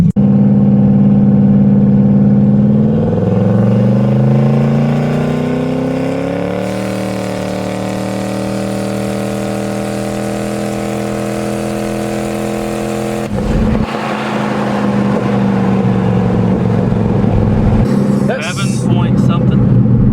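A boosted car fitted with big injectors accelerates hard on a drive, its engine note climbing steadily for several seconds before levelling into a loud, sustained drone, then breaking into rougher rushing road and wind noise, with voices now and then.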